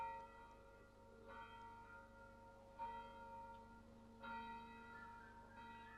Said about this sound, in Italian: è un ambiente di uccellini con campana lontana